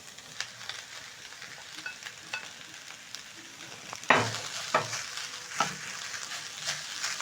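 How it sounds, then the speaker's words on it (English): Leftover plain pilau rice frying with colourful vegetables in a pan for stir fry rice, a soft continuous sizzle broken by several louder scraping stirs of a spatula midway, close and without talk. "next I'm going to be adding in my leftover plain pilau rice"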